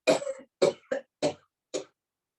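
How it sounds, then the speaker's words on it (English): Five short, deliberate coughs come one after another with brief pauses between them, close and clear against silence, as part of a seated chair yoga breathing exercise. "and cough."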